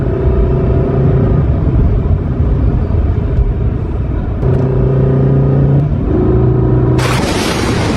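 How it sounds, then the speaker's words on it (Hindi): A cartoon car drives into a village, its engine droning and revving loudly with a couple of gear-like shifts, ending with a sudden bright hiss-like burst at the close. "तभी एक व्यापारी अपनी गाड़ी से गांव में आ जाता है।"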